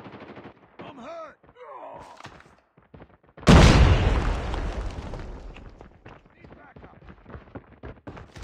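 A frag grenade blasts in a loud, sudden burst partway through a video game firefight, its roar decaying over a couple of seconds amid scattered gunfire, with in-game voice callouts before and after.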